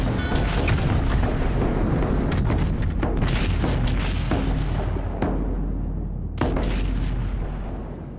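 The Yamato battleship's main guns fire in World of Warships, a dense run of heavy, loud booms and rolling blasts with a sharp fresh salvo near the end, no talking.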